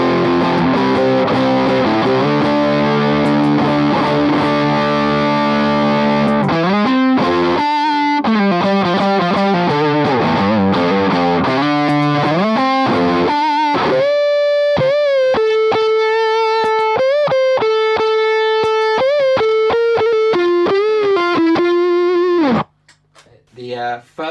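Electric guitar through a Triungulo Lab CE-1 Ensemble Crunch pedal at high gain plays dense distorted chords and then sustained single-note lines, loud and close, ending abruptly.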